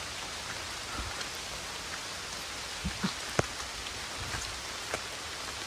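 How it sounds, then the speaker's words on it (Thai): Steady heavy rain hissing down in a broad wash, with scattered louder drops and taps standing out, no voices. "โอ้โห ฝนตกหนักมาก ๆ"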